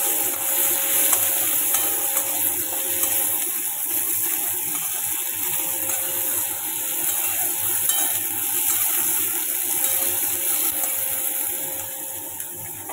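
Chopped onion frying in a pan of oil, a steady dense sizzle and crackle that holds at an even level for the whole stretch, with no voices.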